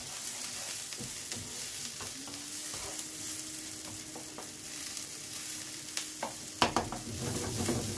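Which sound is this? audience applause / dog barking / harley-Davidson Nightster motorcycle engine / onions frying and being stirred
onions frying and being stirred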